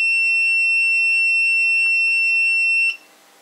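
A loud, continuous high-pitched electronic beep from a multimeter set to the wrong range holds steady for about three seconds, then cuts off abruptly.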